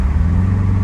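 A Subaru engine hums low and steady while downshifting, under a second, close and fairly loud, a deep rumble with no voices.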